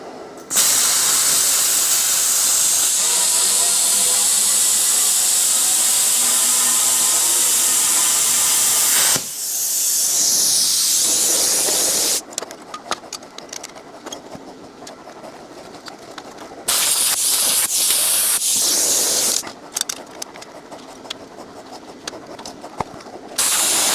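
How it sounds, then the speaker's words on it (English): Cutting 2x2 by 1/4 inch steel square tubing for a tractor ballast build: a loud, steady hissing grind for about nine seconds, then rough scraping and a second long grinding pass, with short bursts toward the end. "I got some 2x2 by 1/4 inch square tubing, and I'm getting ready to cut me a piece 25 inches long"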